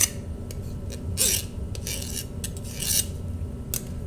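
Hand file rasping burrs off a sheet metal edge, a few broad scraping strokes spaced about a second apart, close and moderately loud against a low background hum.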